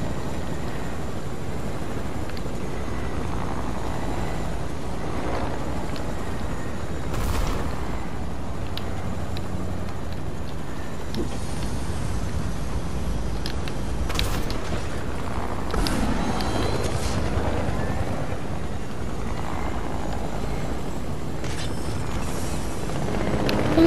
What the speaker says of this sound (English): Oh, that's another helicopter!